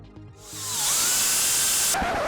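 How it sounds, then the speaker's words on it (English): A hole saw bores a 1-inch latch bolt hole into a door with an LPC190-HD jig, the drill spinning up to a loud, steady high whine for about a second before cutting off abruptly. "So now I'm drilling the 1-inch hole for the latch bolt."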